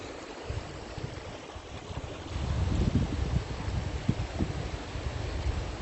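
River water rushes and flows steadily at a jungle river crossing on a hiking trip in Morelos, Mexico, a continuous broadband wash with wind buffeting the microphone.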